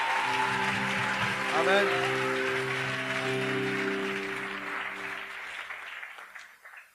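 Congregation applauding during a church service, sustained clapping that fades out toward the end, with a preacher's voice and sustained chords from an instrument beneath it.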